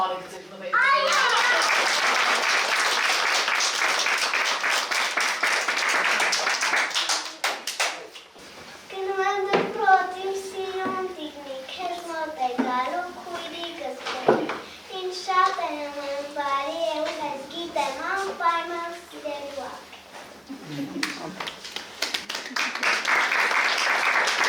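Children at a kindergarten graduation burst into dense applause, then it stops and a voice speaks for a stretch before the clapping returns loudly at the end.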